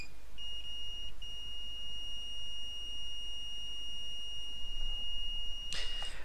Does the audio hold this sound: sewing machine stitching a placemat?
no